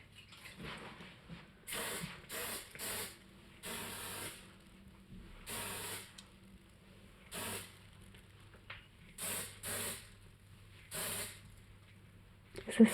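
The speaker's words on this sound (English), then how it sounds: "Is this hairspray? Yeah, it adds more volume to your hair." Hairspray hisses onto hair during bridal hairstyling, arriving as about ten short bursts of one to two seconds each, fairly loud and close, with quiet pauses between them.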